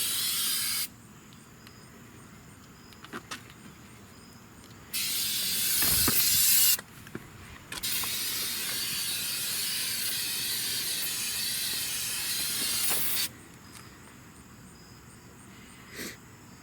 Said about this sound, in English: You're just only spraying on the inside of the wheel well, right?